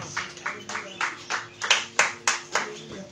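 Worshippers at an all-night spiritual warfare vigil clap in unison, sharp rhythmic handclaps about three per second, loud and near, with faint voices beneath.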